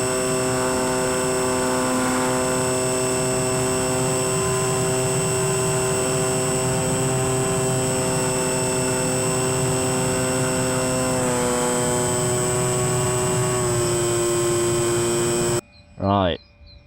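Electric motor and propeller of a Sig Kadet RC model airplane on a 4S battery at under half throttle, a steady tonal buzzing whine holding for about fifteen seconds, nearby, with a voice talking over it before it cuts out.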